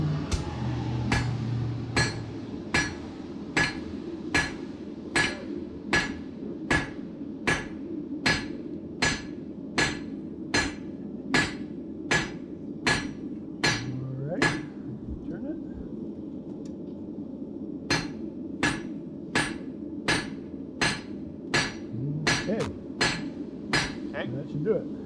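A blacksmith hammers hot metal on an anvil in a steady run of sharp, ringing strikes about once a second, briefly pausing midway, with people talking nearby.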